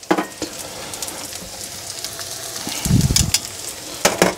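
Shallots sizzling in a pan with partly cooked bacon, a steady crackling fry with scattered pops and a short burst of stirring or scraping midway.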